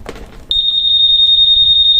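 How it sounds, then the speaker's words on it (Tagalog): A Honda Click 125 motorcycle's anti-theft alarm: a steady, loud high-pitched electronic tone starts abruptly after a brief rustle and holds continuously without a break. "meron po siyang alarm pag ginalaw po ito yung motor"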